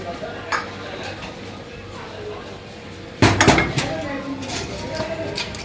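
Metal utensils clink and scrape against a metal dish after a meal at a shop in Landour, Mussoorie, with sharp clatters bunched near the end over background murmur.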